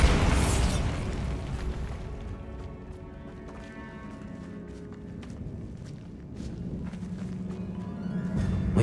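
A Bombarda spell explodes in the Hogwarts Legacy video game: a loud, crashing burst at the start decays into rumbling debris, then scattered clattering and scraping, with a second surge of rumble near the end.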